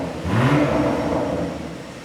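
A BMW G82 M4 Competition Jahre Edition with a loud aftermarket exhaust revs close by, a throaty engine note rising sharply then holding a steady, rumbling drone for about two seconds.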